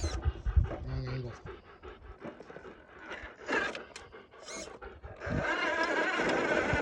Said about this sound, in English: As you can see, RC Dog is panting